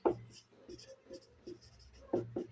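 A pen scratches across paper while a teacher writes out a class 10 quadratic polynomial solution, heard as short bursts of writing strokes over a faint background hum.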